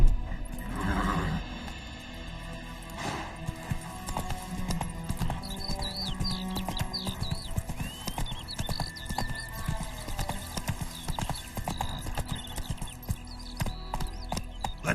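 Horse hooves clip-clop steadily through the clip, joined by whinnying neighs, with scattered other noises in the background.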